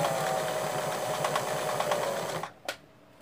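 A sewing machine stitches fabric for a children's rug, a fast, close, steady mechanical whirring that runs for about two and a half seconds and then stops, followed by a brief click.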